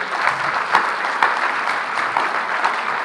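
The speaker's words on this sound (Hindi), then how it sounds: "तो एक जोरदार ताली बजाइए।" Audience applause at a Hindi poetry recital, a dense, steady wash of many hands clapping at once, loud and continuous throughout.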